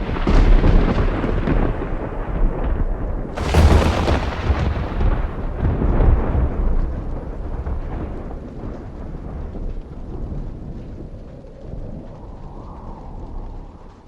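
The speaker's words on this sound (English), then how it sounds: "thunder and lightning rumbled and flashed." Deep thunder rolls and rumbles through a storm, with a sharp loud crack a few seconds in, then long fading growls over a steady hiss of heavy precipitation; no voices.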